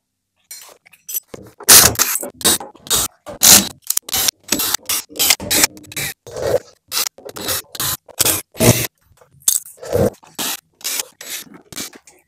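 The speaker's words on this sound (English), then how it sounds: "Now I'm going to take out the screws on the side, the back, and then this top." Screws are backed out of the side, back and top panels of an Eco-Worthy 48V 280Ah battery case, making a close series of short, rhythmic rasping and scraping bursts with brief pauses between them.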